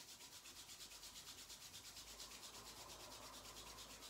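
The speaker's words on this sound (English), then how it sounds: "you're going to start rubbing the hands together, creating heat in between your two palms" Palms of the hands rubbed briskly together, a soft close rhythmic swishing friction repeating steadily with no speech.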